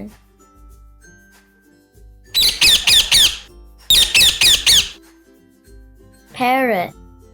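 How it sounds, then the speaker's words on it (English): A parrot squawks in two rapid bursts of harsh, repeated calls, then gives a single wavering squawk, loud and close, with short quiet gaps between. "Parrot,"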